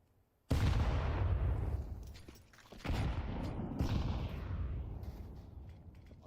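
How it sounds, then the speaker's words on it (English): Grenades detonate in a Counter-Strike match on the Inferno map, one sharp blast bursting in loud and rolling into a long rumbling tail, followed by a second booming explosion with scattered crackling debris, no voices over it. "Lots of nades dropping on in, but it doesn't do any damage"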